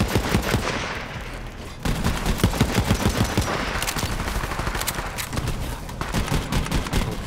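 Sustained automatic weapon fire in Borderlands 3 aimed at a turret, loud, dense, fast-repeating shots that run almost continuously, with brief gaps and layered impact effects.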